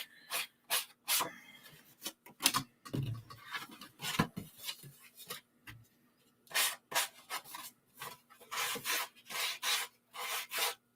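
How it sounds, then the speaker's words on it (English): Bursts of dry scraping from a sanding block rubbing paper edges, coming in quick back-and-forth strokes with short pauses, close up and with no talking. "I'm going to just sand this off. I have a sanding block"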